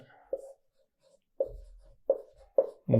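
Marker or chalk writing on a board during a physics lecture on work and energy, heard as a few short separate scratchy strokes spaced across the moment with quiet gaps between them.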